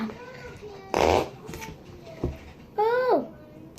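Squelchy, fart-like noises from Christmas slime being squeezed by a little girl, several short wet bursts near the mic, with someone talking and babbling between them.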